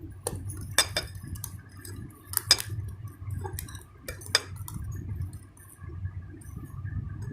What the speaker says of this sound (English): we're beating it nicely